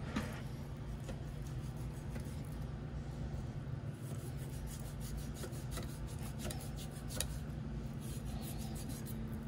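A knife trimming thick, hard fat off a brisket, a continuous close scraping and rasping with small ticking cuts, steady and unbroken, no voices.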